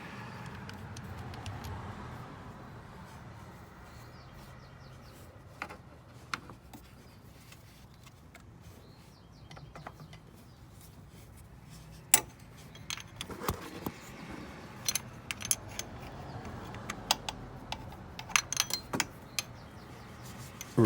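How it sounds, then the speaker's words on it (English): Open-end wrench working the bolts on the fuel primer pump housing of a 2004 Duramax 6.6 diesel, giving sparse metallic clicks and clinks over quiet room tone, growing more frequent and sharper toward the end. "you just use an open-end wrench and do the best you can"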